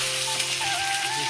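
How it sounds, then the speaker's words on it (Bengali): Onions and green chillies sizzling in hot oil, a brief, steady, close frying hiss with faint tonal whines running through it. "কাঁচা লঙ্কা আর পেঁয়াজ দুটো দিয়ে দেবো। বেশি লাল করে ভাজবো না"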